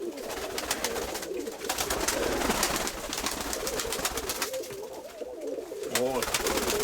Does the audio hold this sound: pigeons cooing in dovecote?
yes